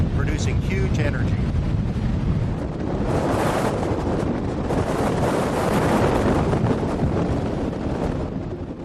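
Steady Atlantic wind blowing over a crest toward the Pacific, a loud, continuous roar of gusting air with heavy buffeting on the microphone that holds throughout.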